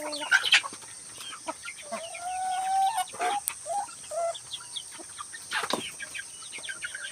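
Backyard chickens cluck and call in short, uneven bursts, with one longer drawn-out note in the middle, fairly close and clear over a quiet outdoor background.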